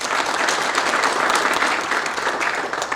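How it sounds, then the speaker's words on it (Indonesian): Audience at a children's forum congress in Kediri applauds steadily, a dense wash of many hands clapping at even loudness throughout, with no speech over it. "Tepuk tangan untuk semuanya."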